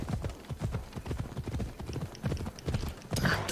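A horse's hooves clip-clop steadily at a trot in the video game Assassin's Creed Odyssey, a continuous rhythmic patter of hoofbeats with a brief louder burst near the end.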